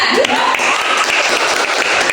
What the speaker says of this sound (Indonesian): Tepuk tangan buat Hendra.